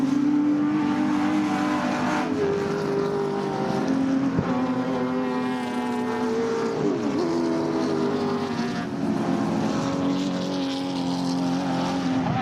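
Muscle cars racing through turn 9 at Eastern Creek circuit in a 2011 Group Nc muscle car masters race, with loud, continuous V8 engine roar and shifting revs as several cars pass close by, no talking.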